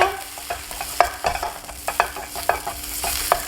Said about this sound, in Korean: 당근 볶아 얼른 빼고 표고 볶아줘야죠